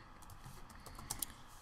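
Soft keystrokes on a computer keyboard come in a short, quiet burst of taps, with a couple of slightly sharper clicks near the end, in an otherwise still room.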